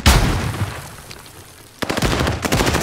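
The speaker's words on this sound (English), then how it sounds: "Stun grenade out!" A stun grenade goes off in a first-person shooter, a sharp burst followed by rapid crackling gunfire that starts loud, fades, then returns in a dense run of shots.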